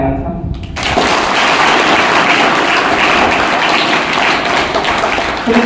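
A crowd at a gathering breaks into dense, sustained applause for an honoured guest. The clapping starts abruptly after a moment and stays loud and even until the end.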